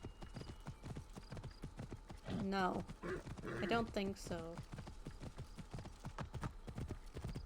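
Horse hooves clop at a steady galloping rhythm in the video game Assassin's Creed Origins, close and continuous, with someone talking over them partway through.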